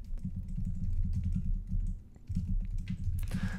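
Typing on a computer keyboard while filling in fields in an API tutorial, close, rapid clacking keystrokes in quick bursts with a short pause midway, no voice over it.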